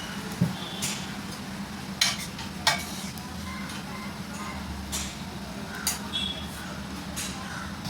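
Grated carrot halwa stirred with milk in a pan, with light scraping and a few sharp spoon clinks against the metal over a low steady background, no talking.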